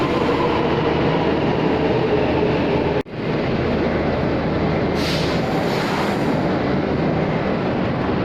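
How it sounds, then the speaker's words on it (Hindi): A Delhi Metro train pulls into the platform with a loud, steady rumble and rolling clatter, broken by a sharp momentary dip partway through, then resumes with a faint high hiss of brakes or air. "आ गई हमारी मेट्रो।"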